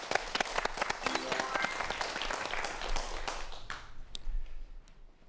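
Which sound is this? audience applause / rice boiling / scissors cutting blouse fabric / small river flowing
audience applause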